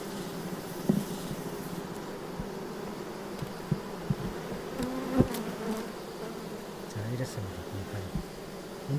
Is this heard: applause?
no